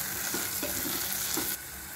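Onions and tomato masala with ginger and garlic sizzle steadily in a hot pan while a spoon stirs and scrapes through them in a few short strokes.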